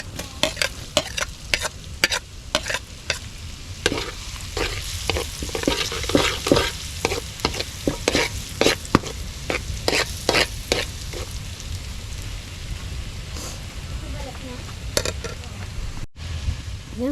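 Garlic frying in a pan as it is stirred, with a constant oily sizzle under repeated sharp scraping and clinking strokes from the stirring utensil, close and busy throughout.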